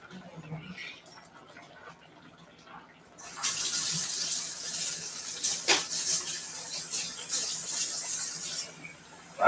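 Hot water gushes from a tap after a quiet start, a loud steady splashing rush that runs for several seconds before cutting off, with faint voices in the quieter opening.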